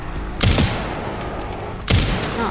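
Two loud bursts of gunfire from a handgun in the survival-horror video game Resident Evil Requiem, the first pair of shots near the half-second mark and a second shot about 1.4 seconds later, over a low ambient hum.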